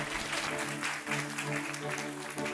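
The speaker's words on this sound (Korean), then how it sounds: "박수 한번 맞으시면 감사하겠습니다." Audience applause at a climate and environment leadership talk concert as student representatives come up on stage, steady clapping throughout with a faint tonal hum underneath.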